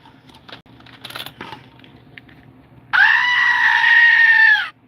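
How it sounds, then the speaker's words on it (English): A goat's scream sound effect bursts in loud and sustained for about two seconds after a stretch of faint background noise and small clinks. "I got the screaming goat."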